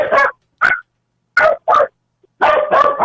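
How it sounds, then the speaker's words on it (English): Several sharp dog barks ring out close and loud in short separate bursts with silent gaps between them, some in quick pairs, and no talking. "Tell those dogs to shut the fuck up."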